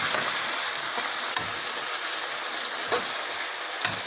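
Pav bhaji vegetables and masala cook in a pan with a soft, steady sizzle. A few faint ticks from stirring break through it, and nobody speaks.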